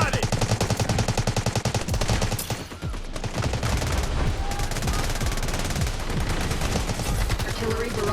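Rapid automatic bursts from a Bizon submachine gun in the mobile shooter game Delta Force Mobile, dense rattling fire nearly throughout with a brief lull, backed by other gunfire and game sounds.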